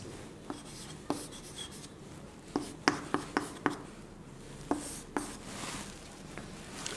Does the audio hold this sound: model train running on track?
no